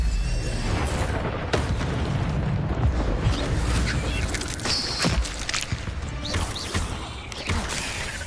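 An Incendio fire spell is cast in Hogwarts Legacy, giving dense, loud booming and crackling bursts with sharp pops throughout, layered over continuous game ambience.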